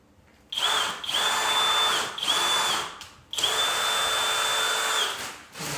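A power drill driving screws during foundation repair work at an investment property, with whining bursts that repeat several times and short pauses between them, loud and close.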